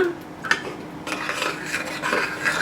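Saffron and sugar stirred into thick milky sabudana payasa in a pot, a few scraping strokes and light metal clinks of a spoon against the pot, close and short, with no talking.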